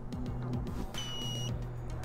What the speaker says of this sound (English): I'm gonna set up the beep function on this